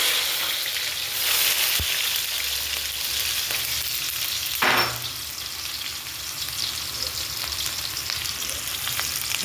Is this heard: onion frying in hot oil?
yes